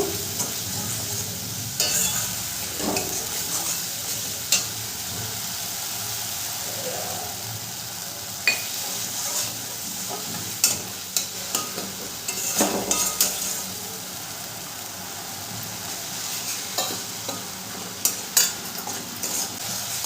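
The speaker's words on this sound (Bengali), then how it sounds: "খুব ভালো করে মশলাটাকে কষিয়ে নেব" Spice paste for a jackfruit curry being stir-fried in a pan with a little water, a steady sizzle under repeated scraping and clinking of a spatula against the pan.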